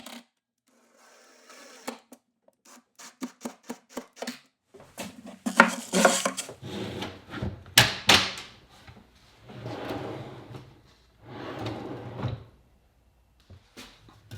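Drawer slides are fitted into a plywood cabinet, with a quick series of sharp metallic clicks, then louder clattering knocks and slides of hardware against wood, all close by, separated by short pauses.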